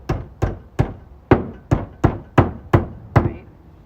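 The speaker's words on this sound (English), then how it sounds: "this needs to be hammered down because it's just dangerous." Hammer striking a nail into wood on a homestead, eight sharp evenly spaced blows about half a second apart, close and loud, each with a short ringing decay and no talking.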